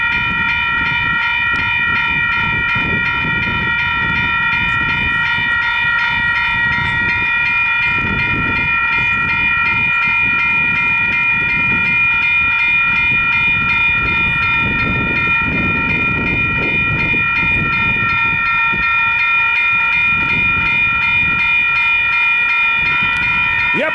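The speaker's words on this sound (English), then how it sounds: "there's a southbound train due in a minute as well" A loud, steady crossing bell rings over the deep rumble of a train rolling past close by at twin pedestrian level crossings at Silverstream Station, continuing throughout.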